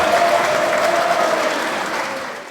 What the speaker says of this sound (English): Let's give me a round of applause for the circles and bendy roads over in the new residential area.